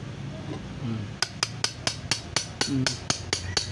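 A hammer strikes the chain shaft during a Honda Wave 100 engine overhaul, about ten sharp metallic blows at a steady, even pace, close and clear after a short stretch of quiet shop noise with a faint voice.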